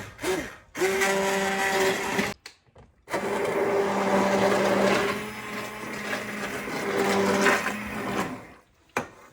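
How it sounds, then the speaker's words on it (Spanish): A kitchen blender purees cooked vegan pumpkin soup, its motor whirring with a steady humming whine that cuts off briefly twice before starting again, close and loud. "si tiene una licuadora, espere que se enfríe un poquito y lo licúa"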